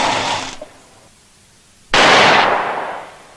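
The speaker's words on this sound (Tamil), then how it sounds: "அப்புறம் துப்பாக்கி சத்தம் கேட்டுச்சு சார்." Two sharp, loud gunshots ring out near a stopped vehicle, each a sudden blast with a decaying tail, the second louder and echoing longer, with no talking.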